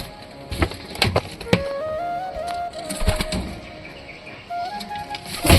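A pigeon's wings clap in a few quick bursts as it flies out, with soft rustling between them against a faint background hum and a thin, steady tone.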